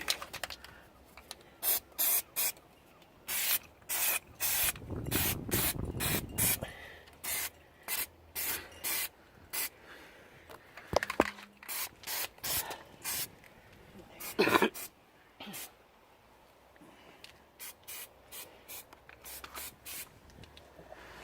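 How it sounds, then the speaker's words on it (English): Short bursts of aerosol spray as black stone chip coating goes onto a car's rusty fuel tank straps, an Audi A4, in many quick hissing blasts of varying length with brief pauses, close and fairly loud, no talking. "I thought I'd give them a quick coat of some black stone chip I've got"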